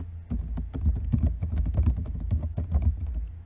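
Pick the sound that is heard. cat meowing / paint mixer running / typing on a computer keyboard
typing on a computer keyboard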